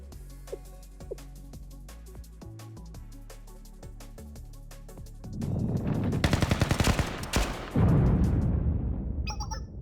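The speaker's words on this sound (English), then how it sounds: "We don't have a visual from here, but the sound of the gunfire and explosions mean the fighting has broken out." Video game battle erupting: after a quiet musical stretch, loud bursts of rapid automatic gunfire and heavy explosions crash in and continue close by, with no speech.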